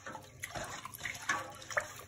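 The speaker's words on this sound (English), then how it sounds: "So make sure you're gonna mix it properly, stirring this correctly." Salt brine of water and sea salt being stirred, with steady watery swishing and sloshing plus a few small clinks and splashes close by, with no talk.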